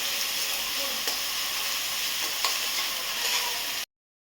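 Small chopped onions sauté in oil in a pan: a steady, loud broadband sizzle with a few faint stirring scrapes, close up, ending abruptly in silence.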